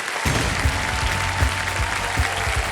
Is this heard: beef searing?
no